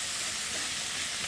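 Brinjal and potato sautéing together in masala in a pan for a rohu fish dish, a short burst of loud, dense sizzling hiss heard close with no voices.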